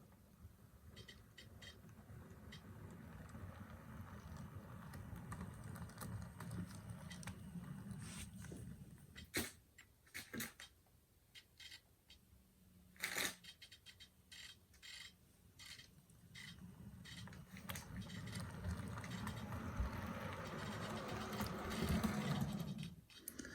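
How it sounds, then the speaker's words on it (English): A Bowser HO scale SD40-2 model locomotive in Canadian Pacific livery runs with its sound off, giving a faint, steady mechanical whir with scattered clicks and taps. "Give you guys just an idea how quiet these locomotives run when you don't have the sound on."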